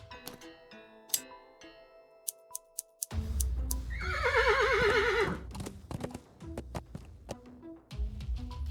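A horse in a point-and-click adventure game gives a loud wavering whinny in the middle, with hoof clops and soft ticking game sounds before and after.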